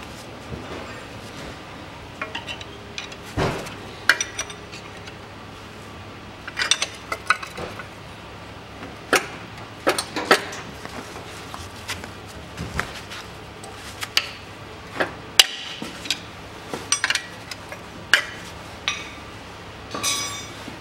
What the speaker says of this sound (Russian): Откручиваем вот эти болты.